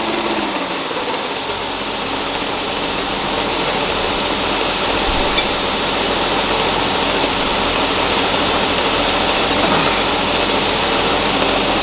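An engine with a 727 transmission runs loud and steady on a dyno during a second-gear trans brake launch test, a dense broadband roar that holds nearly constant throughout, with no talk.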